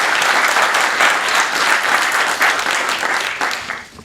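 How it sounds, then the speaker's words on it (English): A room full of business networking chapter members in Manchester, New Hampshire bursts into loud, sustained applause, dense clapping that holds steady for about four seconds before tapering off at the end. "Everybody give them a round of applause"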